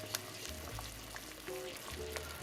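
Chile relleno sauce simmers in a pan over medium-low heat, a steady close sizzle and bubbling with small crackles and faint stirring scrapes, no voices.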